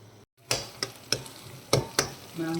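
Chopped tomatoes cook in a covered pan, giving a soft steady sizzle broken by several sharp clicks and taps spaced about a quarter second apart.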